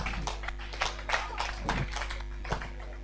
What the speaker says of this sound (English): you are just clapping